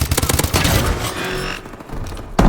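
Royalty AK47 automatic rifle in Call of Duty: Advanced Warfare, a loud close burst of rapid rhythmic gunfire for about a second and a half, a brief lull, then a fresh shot at the very end.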